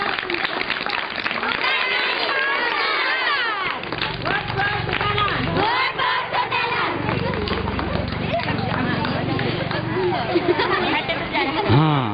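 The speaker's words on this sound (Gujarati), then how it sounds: "તાળી પાડો, તાળી પાડો." A crowd clapping at a village election rally, a dense patter of many hands close by that carries on under loud speech and a lively babble of voices.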